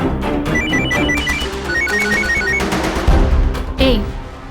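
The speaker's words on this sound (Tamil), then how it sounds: "ஒன்னு போன் அட்டெண்ட் பண்ணு, இல்லனா கட் பண்ணு. அதை எதுக்கு கத்த விட்டுட்டு இருக்க?" A mobile phone rings with a repeating electronic ringtone melody that keeps sounding steadily and fairly loud, with a few low thumps and room noise around it near the end.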